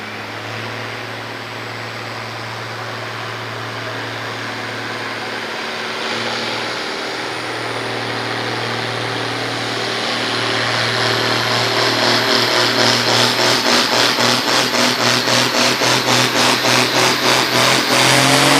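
A 1970s Deutz six-cylinder air-cooled tractor roars loudly in a tractor pulling competition, its engine note rising steadily as it revs harder, then breaking into a rapid pulsing rasp under heavy load, with no talk over it.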